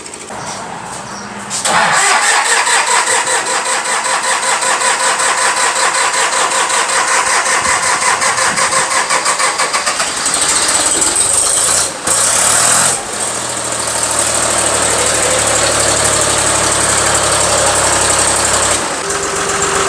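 A Ford 3930 three-cylinder, 65-horsepower tractor with a front loader and rear backhoe cranks and catches, then settles into a loud, steady, close idle that runs for most of the clip.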